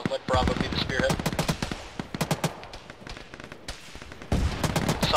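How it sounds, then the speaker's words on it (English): Heavy machine gun fire in the military game Arma, played by ShackTac: dense, rapid bursts of loud shots with scattered single reports and rumbling echoes, continuing throughout with faint radio-style talk beneath. "Some sort of heavy gun west covering Bravo's angle of attack."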